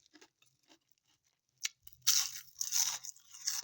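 Crispy deep-fried radish leaves crunch loudly in a few close bites and chews after some faint clicks and rustles, with no talking.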